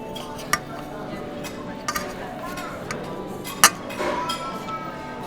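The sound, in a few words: cutlery clinking while cutting a sausage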